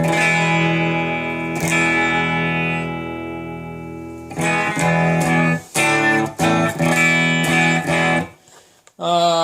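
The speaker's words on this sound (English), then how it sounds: "Let's try to use this as a like a boost pedal." An electric guitar through a Moen Buffalo pedal used as a boost, with a slightly driven tone, rings out in sustained chords, then plays a series of choppy, punchy strums and stops.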